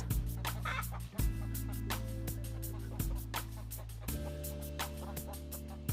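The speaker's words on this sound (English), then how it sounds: "And look at the chickens here." Backyard coop chickens cluck and chatter repeatedly over a loud, steady musical bed, with the birds sounding fairly close but partly masked.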